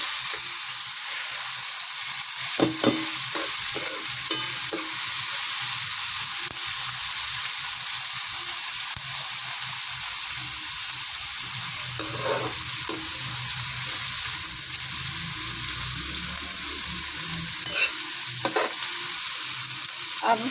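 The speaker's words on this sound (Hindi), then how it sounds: "इसको 5 मिनट हमने फ्राई करना है" Okra and onion fry in a pan for a bhindi pyaz sabzi, a continuous loud hiss and sizzle with occasional clinks and scrapes of stirring, close up and without talk.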